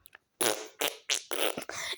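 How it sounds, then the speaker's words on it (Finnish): During a children's game of truth or dare, a child lets out a fart in several short, close, loud bursts following a couple of faint ticks, with no one talking. "älä pierase mun päälle"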